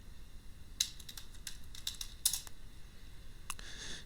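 Typing on a computer keyboard: a handful of scattered, light key clicks in irregular bursts, close and quiet over a faint steady hum, with no talking.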